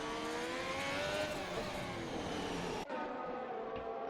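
Formula 1 race car engine from the F1 2021 game on an outlap at Silverstone, a loud sustained high-pitched whine with harmonics shifting as it holds the throttle, then a sudden drop as it goes down a gear, alone with no talk.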